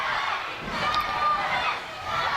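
Wrestling crowd at a W3L Championship Showdown event jeering Johnny Lyons, a steady broadband roar of many voices filling the whole stretch, with commentary talking over it.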